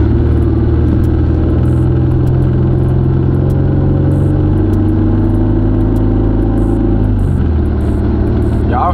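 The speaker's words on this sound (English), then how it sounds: "Y'all hear my exhaust" Deep, droning exhaust note of a car with a 3.5 V6 high output engine and 5-speed, heard from inside the cabin as it pulls, loud and rumbling with engine tone shifting and dropping near the end.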